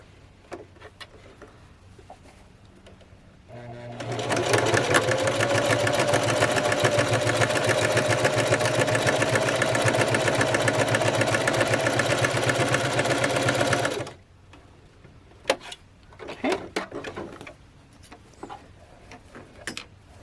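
A sewing machine runs alone at a steady, fast pace for about ten seconds, stitching a zigzag bar tack on a buttonhole, with soft clicks and handling noises before and after.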